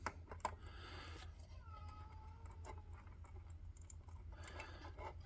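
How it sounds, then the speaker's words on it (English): A frustrated cat stuck inside a room gives a faint, drawn-out meow behind steady background hum, with scattered small clicks and taps nearby. "That's my mother-in-law's cat getting frustrated that she's stuck in there."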